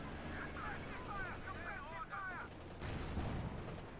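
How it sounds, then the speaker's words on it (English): Gunfire and battle noise from the Company of Heroes 2 video game rumble beneath a steady backdrop, with a louder burst near the end, while people talk over it. "Shot fired, missed."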